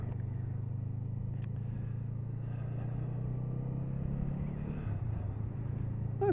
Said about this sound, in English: Nice reassuring burble there from the 500 twin.